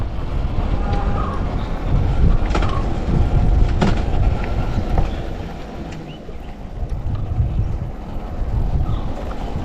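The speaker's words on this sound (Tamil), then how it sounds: "நல்லா காற்றுங்க, அருமையான காற்று." Strong wind gusts buffet a mountain top, roaring and rumbling loudly and continuously with wind noise on the microphone, easing briefly before picking up again.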